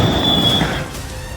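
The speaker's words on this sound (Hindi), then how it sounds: "एमपी के हरदा में एक के बाद एक इतने धमाके हुए कि पूरा शहर थर्रा गया।" Blasts at a firecracker factory in Harda, Madhya Pradesh, where about 15 tonnes of explosive material detonated, rendered as a loud, dense rumbling roar with a sustained crackling wash that eases slightly toward the end.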